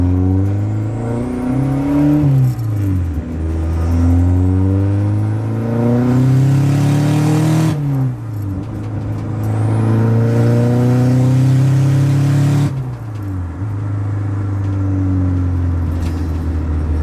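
A car engine on the 240, fitted with a wastegate, revs hard through repeated gear pulls while driving, rising whines dropping at each shift, loud and close with no talk.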